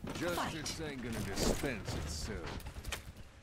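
Gunfire and weapon effects in the video game Overwatch, rapid sharp game shots and mechanical clicks mixed with chirping effect sounds, moderately loud, with a player's voice talking under them.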